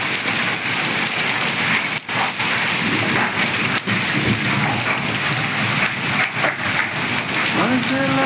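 Heavy rain pours steadily during a thunderstorm in Ganjam district, Odisha, a loud, close, unbroken roar of downpour with a few sharp thunder cracks breaking through.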